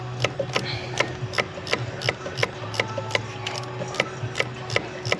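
Repeated ratchet clicks come from a wrench tightening the intake clamp on an Audi S3 during a Blaze intake install, sounding as a steady run of sharp, close mechanical ticks over a low background hum.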